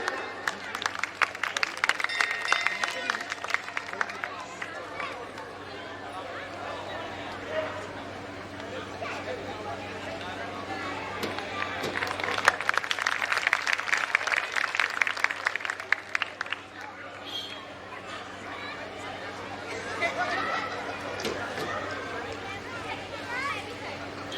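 A crowd at a Khatu Shyam bhajan evening applauds a guest singer with sustained clapping that swells and fades across the stretch, while a voice talks over it.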